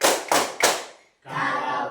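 Three crisp, near hand claps in quick rhythm from children singing a clapping song in a classroom, then a short pause before a sung line begins.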